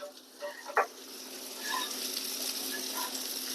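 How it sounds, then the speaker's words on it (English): Steady soft sizzling from a freshly baked pizza just out of the oven, faint and continuous, with a few small clicks and pops near the start. "if you can hear that sizzling"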